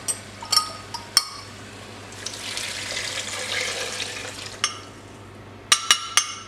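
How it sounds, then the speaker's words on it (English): Beef stock poured into a pot of Vietnamese beef stew (bo kho), a close, continuous splashing pour lasting a few seconds between sharp knocks and clinks of the pot or container, with no talking. "Okay, so in with the beef stock."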